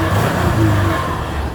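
A 2000 Subaru Outback with a five-speed manual and a slight exhaust rattle, heard while driving: a loud, close, steady engine and exhaust drone that swells briefly, with no talk.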